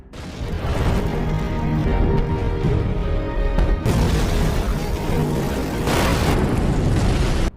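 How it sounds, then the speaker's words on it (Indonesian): Heavy, rumbling blasts from American aerial bombardment in a Vietnam War film roll one after another, loud and close, shaking a bunker, with a sharp new burst partway through. "Ledakan dahsyat ini mengguncangkan bunker"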